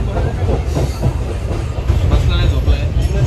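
An Indian passenger train rolls from Puri toward Bhubaneswar, heard from inside a carriage as a loud, steady rumble with faint rhythmic clatter of wheels on rails throughout.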